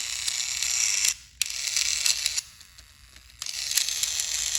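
A small toy train motor with a broken axle gear whirs with a gritty gear buzz, stopping briefly twice before starting up again; close and fairly quiet.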